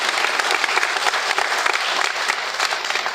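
Audience applause fills a devotional discourse hall, dense and steady clapping that holds evenly for a few seconds without any speech over it.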